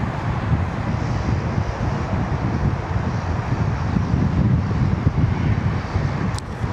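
Strong wind at the Sydney Airport ATC tower, a continuous loud rushing roar buffeting the microphone, with a possible aircraft engine rumble blended underneath.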